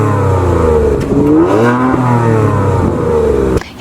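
A 2022 Kia Stinger GT with twin-turbo engine and quad exhaust tips revs loudly in sport mode, rising and falling in a deep, sustained exhaust note before cutting off abruptly.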